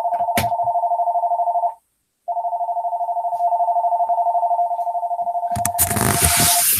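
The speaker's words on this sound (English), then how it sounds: "Probably the generic AT&T telephone ringtone these days, which sounds like this." A generic AT&T telephone ringtone sounds as a loud, steady electronic warble in two long bursts separated by a short gap, ending in a clatter of handling noise.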